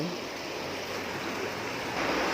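Meltwater from melting snow and ice rushes strongly through a stream at a natural water-treatment waterwheel, a steady, dense broadband roar of flowing water that stays loud and unbroken throughout, with no talk.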